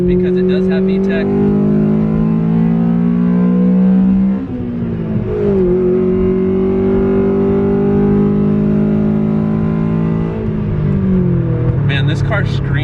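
An EM1 Honda Civic Si engine revs hard and high, its pitch climbing and shifting sharply as VTEC engages at 5,500 rpm, then droning on at a loud, strained whine.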